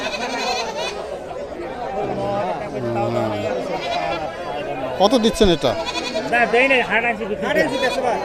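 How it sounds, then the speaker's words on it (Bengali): Ram chhagol goats bleat at a village livestock market, several loud wavering cries near and far amid crowd chatter, with someone speaking over them. "রাম ছাগল না?"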